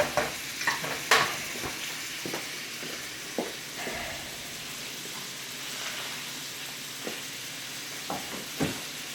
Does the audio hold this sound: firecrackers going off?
no